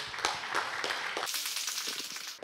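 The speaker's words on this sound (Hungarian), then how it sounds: "egy nagy tapsot kérünk" Steady, dense applause from an audience at the prize announcement of a Bulgarian tomato-growing competition, filling the room evenly from start to end with crisp overlapping claps.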